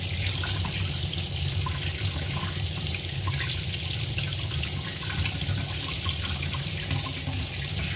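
A tap runs in a constant, close splashing stream into a sink while tilapia fish is cleaned under it, with no voices over the flow.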